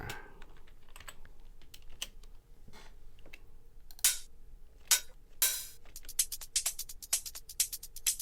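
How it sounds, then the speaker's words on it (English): Clicky keystrokes on a computer keyboard, typed into a search bar, come in quick uneven runs, sparse at first and then denser and louder toward the end, with no talking. "We could just type it in the search bar."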